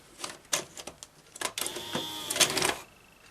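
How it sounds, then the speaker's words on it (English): A Toshiba V-77 VCR takes in a tape with a run of mechanical clicks and clunks, then a steadier whirring motor as the loading mechanism engages, close by with no talking. "So I'm now going to put a tape in."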